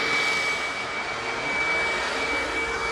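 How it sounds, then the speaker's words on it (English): Hoover WindTunnel Plus upright vacuum with a white brush roll spinning, a loud steady motor whine and roar held at one pitch, close and unbroken, with no voices. "But that brush roll certainly is spinning."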